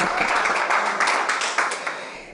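Brief burst of audience applause for Cristiano Ronaldo, a dense, fairly loud wash of clapping that fades slightly over about two seconds.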